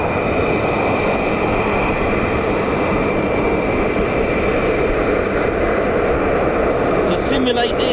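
An F-35 fighter jet engine at RAF Lakenheath roars as a steady, loud, unbroken broadband rumble held at idle, with no let-up through the stretch.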